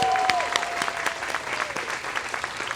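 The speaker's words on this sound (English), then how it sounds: "Let's give them a round of applause." An audience applauds at the grand opening of the River's Edge exhibit at Santa Ana Zoo, with dense clapping throughout and a brief tone near the start.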